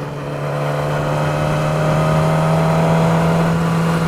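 A Yamaha R6 600cc supersport motorcycle engine runs loud and close, holding a steady high-revving drone with no voices.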